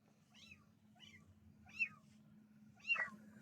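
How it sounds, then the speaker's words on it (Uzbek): Kittens trapped down in a toilet pit meowing during a rescue, four thin high-pitched mews spaced about a second apart, the last two louder and more urgent, over a faint steady background hum. "Artel sotuvchisi Azamat tuvaletdan ikkita mushuk qutqaryapti"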